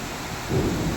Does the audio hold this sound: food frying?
no